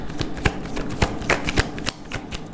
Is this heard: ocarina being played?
no